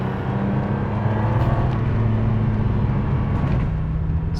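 A 1997 Ferrari 550 Maranello's engine drones steadily from inside the cabin while driving, a loud continuous low hum with sustained tonal bands and no speech over it.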